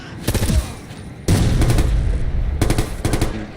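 Video game gunfire and a thrown frag grenade's blast burst out in loud bursts, with rapid automatic fire rattling in three separate volleys and a heavy boom-like rumble sustaining between them, close and intense.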